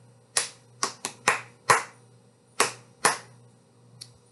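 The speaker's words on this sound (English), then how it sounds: "Let's do it with a clap." A group of children claps the shave-and-a-haircut rhythm at a Mother Goose story time, seven sharp, close handclaps in the familiar uneven pattern, then a lone soft clap after a pause.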